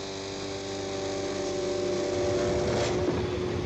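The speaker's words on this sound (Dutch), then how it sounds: "Start de motor en niet sneller rijden dan 8 à 10 km per uur" A vehicle engine in a Dutch Mars-expedition radio drama runs with a steady, low droning hum and faint overtones, holding even and close throughout with no clear ignition burst.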